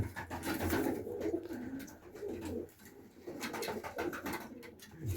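Pakistani pigeons coo repeatedly in low, throaty rolling calls, several birds overlapping close by with soft rustling between coos.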